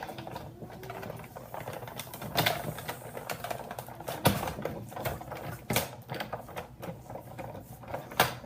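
A Big Shot die-cutting machine cranks cardstock through to cut a flower shape, a close stream of clicking, ratcheting mechanical clatter with irregular louder knocks.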